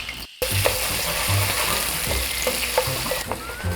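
Meat is frying in a generous amount of hot oil in a wok for jjajang sauce, giving a continuous crackling sizzle with soft stirring and occasional pops, no voices.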